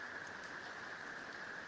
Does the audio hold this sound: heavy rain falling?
yes